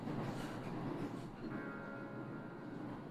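Train ambience from the visual novel UsoNatsu, a faint steady rumble of a moving train with a thin ringing tone entering partway through.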